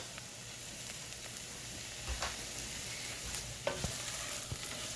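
Mushrooms cook in a pan with olive oil, giving a faint, steady sizzle broken by a few soft scrapes and clicks as they are stirred.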